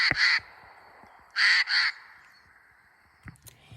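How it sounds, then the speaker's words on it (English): A Eurasian jay gives two harsh, rasping screeches, each a doubled burst about a second apart, loud and close, followed by quiet with a few faint clicks. "And in Swedish, it is nötskrika. And that basically means nut screamer in English."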